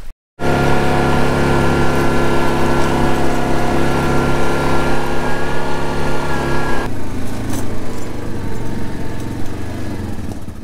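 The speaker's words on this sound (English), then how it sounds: "let's go get the four-wheeler." Four-wheeler ATV engine starting abruptly after a moment of silence and running loudly and steadily close by, its droning tone shifting lower and slightly quieter partway through.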